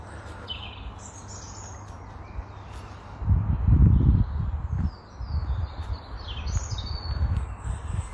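Birds sing and chirp outdoors in a sunny park, faint high calls scattered through the clip over low rustling and wind-like rumble.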